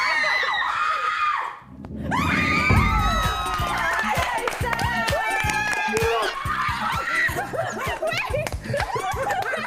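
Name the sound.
group of people screaming excitedly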